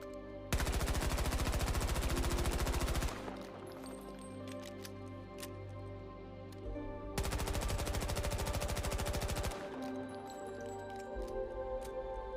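Rapid automatic gunfire with weapon recoil in Battlefield 2042: two long loud bursts of fast repeated shots, each about two to three seconds, separated by quieter game ambience and small clicks.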